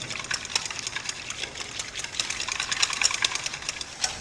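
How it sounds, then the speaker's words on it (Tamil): Egg whites whipped with a little sugar for floating island dessert, a steady close whirring of an electric beater with rapid rattling against the bowl, continuous throughout with no talking. "இப்போ இந்த முட்டையோட வெள்ளையில் கொஞ்சோண்டு சர்க்கரை ஆட் பண்ணிக்கோங்க. கொஞ்சோண்டு சர்க்கரை ஆட் பண்ணிவிட்டு இதை நல்லா பீட் பண்ணுங்க."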